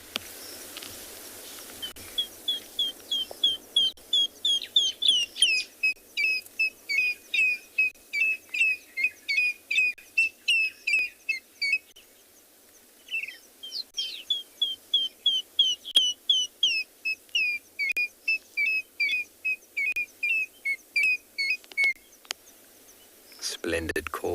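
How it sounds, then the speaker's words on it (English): A loud, high-pitched piping bird call on a South African safari, repeated in a long, steady series of rapid, evenly spaced notes, paused briefly midway, then resuming, heard up close over a quiet background. "A very loud, high-pitched, piping kind of call"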